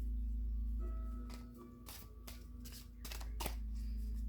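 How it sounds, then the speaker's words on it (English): Tarot cards are riffled and shuffled close by, a few soft flurries with brief taps between, over a steady low hum. "I'm going to try to shuffle this and see what happens."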